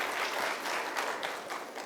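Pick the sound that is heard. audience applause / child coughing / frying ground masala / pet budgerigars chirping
audience applause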